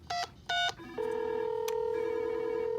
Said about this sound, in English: now we can dial something.